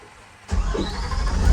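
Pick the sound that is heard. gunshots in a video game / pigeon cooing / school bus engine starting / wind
school bus engine starting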